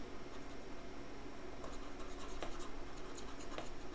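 Marker or eraser scratching and rubbing across a whiteboard during a completing-the-square lesson, soft intermittent strokes over a steady room hiss, fairly quiet and close.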